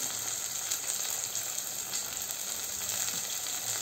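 Chopped vegetables and carrots fry in ghee for a Kashmiri pulao, a steady soft sizzle with faint stirring, constant and quiet without speech.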